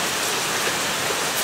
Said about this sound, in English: And as you can hear, it's raining.